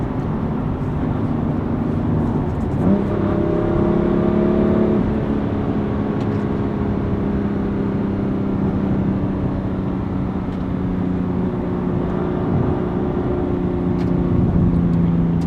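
A lightweight BMW M2 with a manual gearbox drives and accelerates, its engine a steady loud drone with rising and falling pitch sweeps as gears change, heard from inside the cabin over constant road noise.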